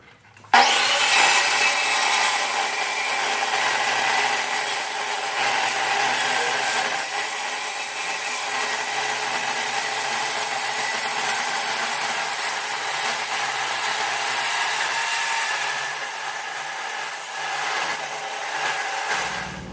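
A metal tube being cut to length for a bail repair on a CAT 627 scraper, a continuous harsh rasping cut running loud and steady for about eighteen seconds before trailing off, with no voices.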